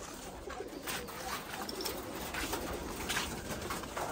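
Pigeons coo steadily inside a homemade cage, a soft continuous murmur of several birds close by with no voices over it.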